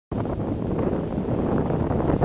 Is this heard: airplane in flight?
no